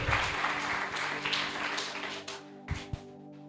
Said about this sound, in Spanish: Dale fuertes palmas de alabanza a Jesús.